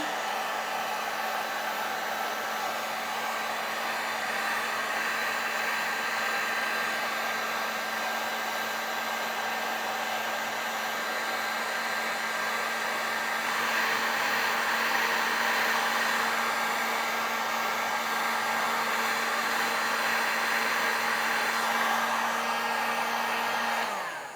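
A heat gun on its low setting blows onto crimp connectors to shrink their heat-shrink tubing, giving a steady, even whir with a low hum that runs for about twenty-four seconds and swells slightly midway, with no talking.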